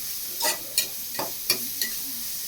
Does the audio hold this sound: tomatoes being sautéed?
yes